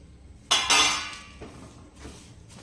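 A metal spoon scrapes and clinks against a pan as sesame seeds and ghee are stirred for sesame chikki, with two sharp close clatters followed by softer scrapes and taps, no talk.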